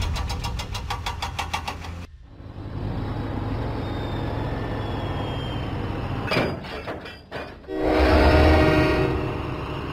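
A cartoon diesel train engine chugs steadily through the countryside, its engine rumbling continuously, with a brief horn-like tone and a louder surge of engine noise near the end.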